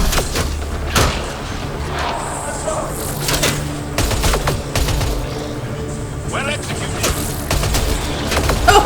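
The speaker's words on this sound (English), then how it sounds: "Oh, nice bomb!" Bomb blast during an ambush fight in Mass Effect Andromeda, a heavy boom among scattered gunfire and thuds, fairly loud and near, with voices talking over the combat.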